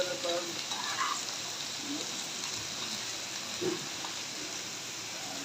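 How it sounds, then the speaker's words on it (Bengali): Lentil badi made from masoor dal crackle in fish-frying oil. A constant close sizzle runs throughout, with occasional soft stirring scrapes. "মাছ ভাজার এই তেলে আমি মসুরি ডালে বড়িগুলো বেজে নেব"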